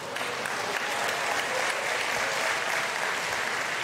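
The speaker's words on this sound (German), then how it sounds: "nicht so viel klatschen bitte" Audience applause at a Protestant church congress, the Evangelischer Kirchentag, with a large crowd clapping steadily and densely throughout, no voices above it.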